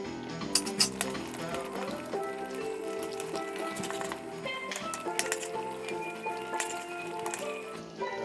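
Margarine sizzling in a pot as the base for a Caribbean-style bone-in hind shank beef stew, a steady close crackle broken by light clinks of a utensil against the pot, with no talk.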